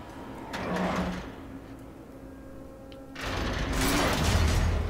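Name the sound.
door opening in video game Batman: The Telltale Series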